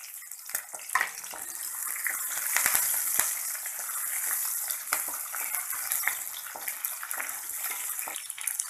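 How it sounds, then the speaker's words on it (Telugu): Onions, green chillies and curry leaves fry in oil in a kadai pan, giving a steady bright sizzle and crackle that holds throughout, with a few sharper pops and no talking. "కళాయిలో కొద్దిగా నూనె వేసుకొని అందులో ఉల్లిపాయ ముక్కలు, పచ్చిమిరపకాయ ముక్కలు, కరివేపాకు,"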